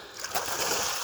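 Spotted bass hitting a topwater lure on a lake beside a boat slip, one brief, faint splash and slosh of water.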